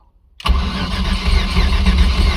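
Turbocharged LS V8 swapped into a Mazda Miata fires up after a short silence, catching abruptly into a loud, steady idle with a deep rumble.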